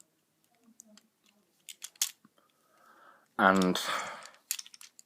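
Plastic and die-cast parts of a Generation One commemorative Transformers Starscream toy being flipped and folded, producing sparse close clicks and snaps, with a brief spoken word partway through.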